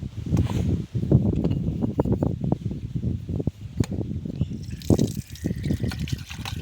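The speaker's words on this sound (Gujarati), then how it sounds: "પાણી ચડાવીએ આપણે" Water poured from a glass over a Shiva lingam at a temple, a steady close trickle and splash running for several seconds with brief pauses and no talk.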